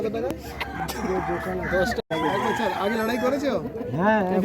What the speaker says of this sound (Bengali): এটা কি দেশি মোরগ দাদু